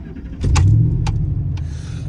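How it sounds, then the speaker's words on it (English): A vehicle engine starts and runs at a steady low idle, close by, with brief sharp clicks and a short rev near the start, then a constant rumble. "Yeah, that's a wonderful engine right there."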